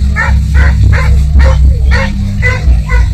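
Hunting dogs bark in France during a chase, a loud close chorus of repeated yelps and bow-wows in a steady pulsing rhythm over a low rumbling background.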